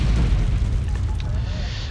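Artillery shells landing in Wargame Red Dragon, with a low, heavy booming rumble that rolls on continuously, loud and close, and a voice talking faintly underneath.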